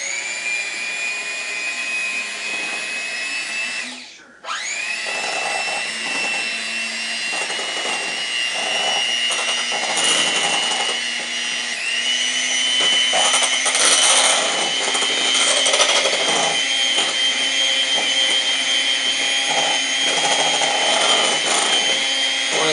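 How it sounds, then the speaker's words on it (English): An electric mixer whirs steadily while beating cake batter for a birthday cake, a loud continuous motor whine that dips for a moment as it is adjusted, then runs on with a rough, scraping texture against the bowl. "Now we use the electric mixer."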